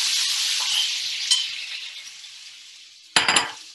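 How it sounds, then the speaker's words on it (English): Sliced pork sizzles and fries in hot oil in a wok, a loud steady crackling hiss that slowly fades, then a sharp clatter of a metal spatula scraping the pan near the end. "And you need to hear a sizzle."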